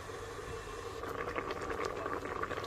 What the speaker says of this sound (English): Yes, this is what we're looking for. It's coming to a boil.